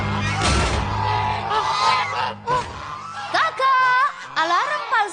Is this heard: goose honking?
yes